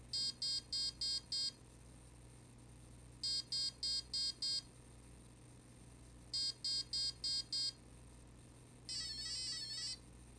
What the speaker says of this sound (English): And then for throttle response speed, five beeps